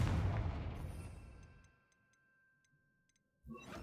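A Confringo fire spell blasts in the video game Hogwarts Legacy, a loud burst that rumbles and fades over about two seconds, followed by faint ticking sparkle effects and then a fresh low thump.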